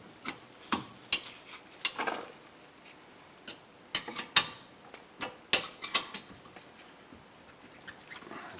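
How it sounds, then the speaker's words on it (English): Torque wrench clicking and ratcheting on VW MK4/MK5 rear brake caliper bolts, a string of sharp close mechanical ticks and clicks in irregular bursts, with no talking. "So now we'll do the final torque on here."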